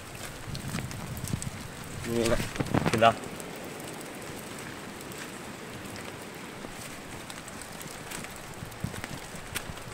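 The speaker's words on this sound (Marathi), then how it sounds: "पाऊस जोरात आला." Heavy rain falls in misty Konkan hill forest as a constant wash of drops, with a brief louder burst of sound early on before it settles into a steady downpour.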